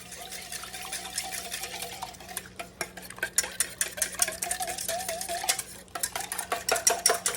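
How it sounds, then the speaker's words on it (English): Egg and milk stirred together in a bowl with a utensil, rapid rhythmic clinking and scraping strokes that come in quick bursts, close up, with no talking. "just stir your egg and milk up together like this."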